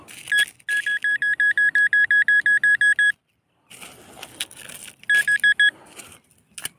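A metal detector sounds its signal during a beach and playground hunt: a fast series of steady electronic beeps, paused, then a shorter burst of beeps. Faint handling noise sits between the bursts.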